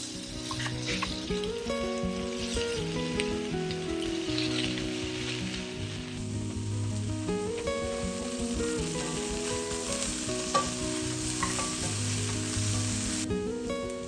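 Salt-and-pepper riblets sizzle and get tossed in a hot pan, a continuous frying hiss with occasional scrape accents heard under steady background music.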